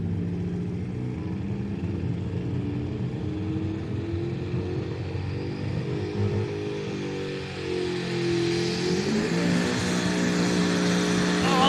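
The Rough Stuff, a Dutch competition pulling tractor at a European Championship tractor pull, roars continuously with its engine revving hard, pitch climbing and rising toward the end, loud and up close.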